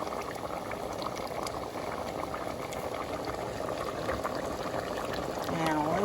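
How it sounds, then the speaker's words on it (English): A pot of potato soup coming to a boil, a steady, continuous bubbling and rolling wash of liquid, close and moderately loud throughout, with a brief trickling sound near the end. "Bring that up to a boil. Once it comes to a boil"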